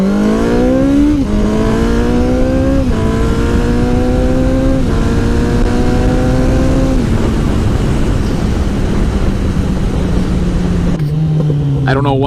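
A car accelerates along a road, engine loud and close, climbing through a series of gear shifts with rising revs that drop at each change, then settling into a steady drone before easing off.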